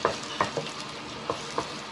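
Pork sisig with tofu and egg sizzles in a pan while a utensil stirs it, giving steady frying hiss punctuated by several sharp scraping strokes at an irregular rhythm.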